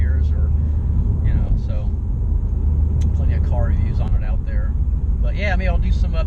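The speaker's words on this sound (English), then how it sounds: "driving on some back roads, just have some fun in it." A 2021 Subaru WRX STI cruises on back roads, a steady low engine and road rumble running continuously beneath a person talking throughout.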